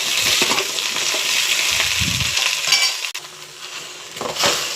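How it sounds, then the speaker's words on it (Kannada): Okra frying in a little oil in a pan, a continuous bright sizzle with occasional spoon scrapes and stirring clinks, loud and close with no voices. "ಎಣ್ಣೆ ಹಾಕ್ಕೊಂಡು ಚೆನ್ನಾಗಿ ಫ್ರೈ ಮಾಡ್ಕೊಳ್ಳಿ."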